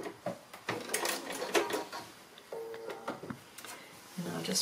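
A sewing machine stitches a quarter-inch seam along the edge of a fabric triangle for a pin cushion, with short mechanical runs under and between a person talking.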